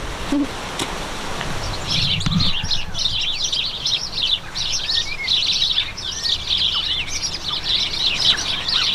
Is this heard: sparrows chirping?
yes